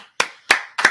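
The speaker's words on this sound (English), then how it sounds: "clap it up. Clap it up." Three sharp, slow hand claps ring out at an even pace in a reverberant room at a San Antonio class gathering, loud and close with no talking.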